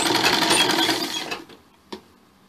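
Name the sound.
sewing machine stitching blouse fabric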